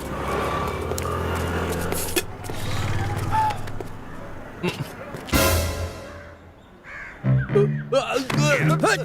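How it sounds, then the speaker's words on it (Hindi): Crows cawing in an outdoor scene, harsh calls mixed into busy ambient noise with a sharp bang partway through, then speech and shouting toward the end. "तरुण, ये कर्नल कौवे को इस तरह बंदूक से उड़ा दिया, कितना डेंजर है।"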